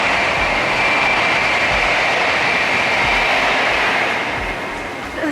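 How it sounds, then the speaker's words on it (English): Waiting on the KTX platform at Ulsan Station in hot weather, a steady loud broadband rumble and hiss of rail noise fills the air, with faint rhythmic low thumps like wheels over joints and no talking. "we are at Ulsan Station right now, waiting for the KTX to go back to Seoul"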